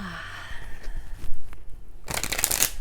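Cards being shuffled, a crisp riffling burst near the end after soft handling sounds, close and fairly loud.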